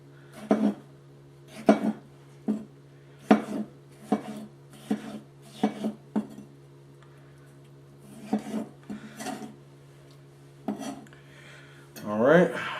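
A knife chops fruit and vegetables for pineapple mango pico de gallo on a cutting board in separate close, sharp strokes, in short bursts with pauses over a low steady hum.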